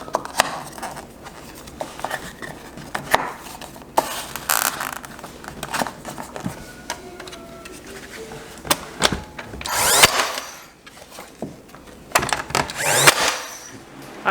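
A power tool works on wood trim in a mobile home bedroom renovation, sounding in several uneven bursts with pauses and clatter between them, close and fairly loud.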